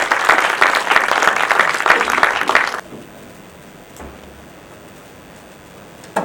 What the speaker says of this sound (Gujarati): પરેશભાઈ વ્યાસ, જોરદાર તાળીઓથી એકવાર એમનું સ્વાગત કરીએ.